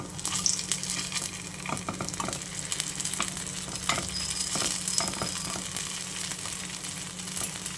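Sabudana vada fry in a pan of hot oil with a dense, even sizzle and crackle, close and steady throughout, with faint clicks of turning and no voices.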